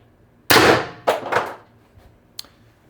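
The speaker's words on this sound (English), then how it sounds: "That's the second shot." Shots fired from a Pistelle X-68 build during testing: a loud, sharp bang with a ringing tail, followed by two more quick reports close together and a faint click near the end.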